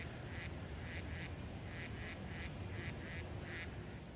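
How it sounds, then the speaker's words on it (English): Faint, rhythmic quacking of mallards repeats in short bursts over a steady outdoor rumble, the ducks sounding some distance away. "Some of the birds we encountered included mallards,"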